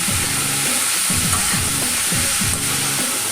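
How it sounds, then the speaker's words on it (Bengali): Ridge gourd and potato pieces with spices sizzle loudly in a frying pan while a spatula stirs them in about five regular, rhythmic scraping strokes. "এবার একসঙ্গে দিয়ে এটাকে আস্তে আস্তে করে ভালো করে কিন্তু আমি মিক্স করবো।"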